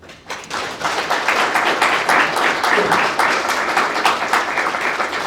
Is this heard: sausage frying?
no